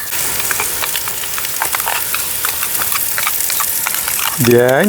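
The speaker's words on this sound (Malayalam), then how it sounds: "അതാണ് ഫ്രൈ ചെയ്തത്. ഈ ബ്രെഡും പനീറും." Bread and paneer frying in a pan while making Hyderabad vegetable pulao, a steady close sizzle with faint crackles, and a brief voice rising at the very end.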